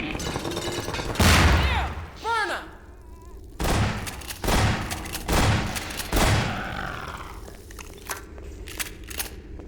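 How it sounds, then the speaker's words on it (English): Automated turret gunfire in the video game Half-Life 2: Episode One: several loud, crackling bursts separated by short gaps, with other game sounds and faint voice-like tones between the volleys. "There's turrets out there."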